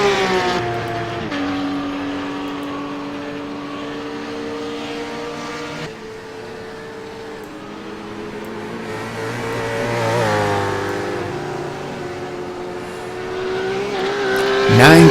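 Race cars circling a track during a race, engines droning and shifting pitch as they pass, rising and falling in a steady, loud whine with a swell near the end.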